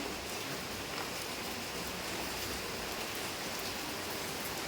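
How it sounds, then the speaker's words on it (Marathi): Continuous rain falls evenly, a soft, steady hiss of drops with no voices or other sounds over it. "पाऊस पडतोय"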